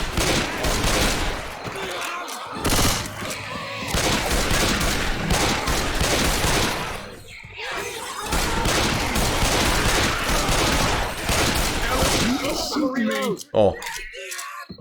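Rapid bursts of gunfire with explosive ammunition in the video game Left 4 Dead 2 crackle in dense volleys with brief pauses, mixed under players talking.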